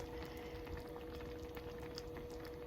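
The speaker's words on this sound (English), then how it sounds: "So it's simmering pretty good now." Vegetable bouillon soup with broccoli simmers in a pot, giving a faint, continuous bubbling and hissing that runs evenly beneath a low steady hum with no talk.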